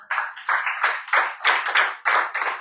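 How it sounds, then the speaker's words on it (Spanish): A church congregation claps in rhythmic bursts, about a dozen sharp, fairly close hand-clap groups in a steady pulsing beat, with no talk over it. "Que le da un aplauso al Señor"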